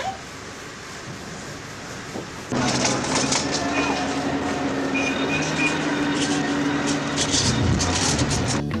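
The Indian Pacific train pulls slowly out of the Port Pirie rail complex. A quiet start gives way to a sudden louder rumble of rolling wagons with squeals and metallic clatter that continues throughout.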